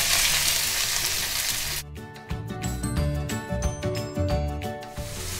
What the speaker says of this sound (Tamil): வெங்காயம் வதங்கிடுது